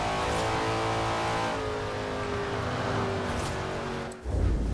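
A Shelby Cobra engine in Forza Horizon 4 drones steadily at high revs, pitch slowly rising, then cuts off abruptly near the end with a brief low rumble.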